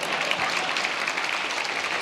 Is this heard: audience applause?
yes